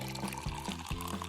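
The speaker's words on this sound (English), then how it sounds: "Pour in some latte." Latte pouring into a glass in a kitchen, a short liquid pour with gurgling, bubbly texture heard up close over a brief instant.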